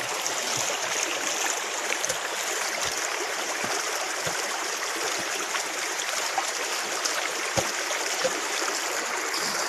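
A small rocky forest stream flows steadily nearby, an even broad rush of water with faint occasional knocks and splashes, and no talking.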